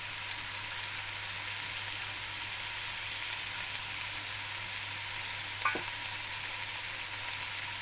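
Okra sizzles steadily in a hot pan, a constant close frying hiss broken by a single short scrape as it is stirred.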